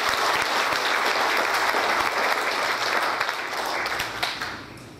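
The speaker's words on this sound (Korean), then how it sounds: "여러분들의 박수소리가 크신 거 보니까" An audience at a Korean community meeting in Atlanta breaks into loud, sustained applause, a dense clapping that carries on evenly before tapering slightly toward the end.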